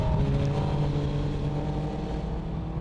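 A Cowley Mark IV 750 Formula race car on track at Donington Park, its engine note a steady, loud, close drone with a sustained tone.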